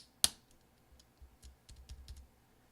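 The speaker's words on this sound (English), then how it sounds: "now you take your I key and just place it on the top there like that, and you push down" A 13-inch MacBook Pro Unibody I key is pressed down into place with one sharp, close snap, followed by a few soft scattered clicks and light handling taps.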